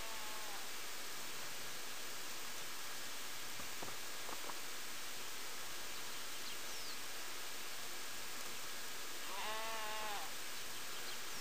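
Sheep bleat once in a RuneScape sheep pen, a short wavering call near the end, standing out over a steady hiss of background noise.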